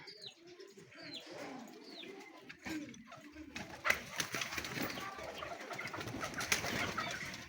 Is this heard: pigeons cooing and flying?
yes